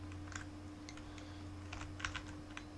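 Computer keyboard keys click in a few light, scattered taps and short bursts over a low steady hum, close by, with no one speaking.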